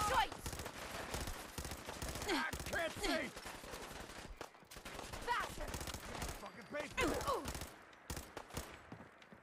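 Rapid bursts of gunfire from the player's gun in Fallout 4, loud clustered volleys of shots in two main rounds separated by a brief pause, with faint voices mixed in.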